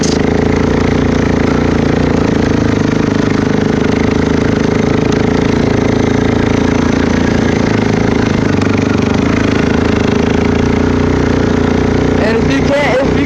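A 2012 Suzuki KingQuad 400 ATV fitted with an HMF exhaust runs steadily close up, a loud, raspy, constant engine drone driving over rocks that stays level throughout, with someone talking underneath it.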